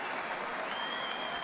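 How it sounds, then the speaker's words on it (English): Continuous applause and cheering from the crowd at a boxing match, Arthur Abraham versus Robert Stieglitz, a dense, steady wash of clapping with a whistle rising above it. "Crowd loving it."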